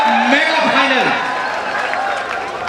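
An audience claps and cheers at a kabaddi final, a broad wash of applause under a loud announcer's voice that fades into steady crowd noise.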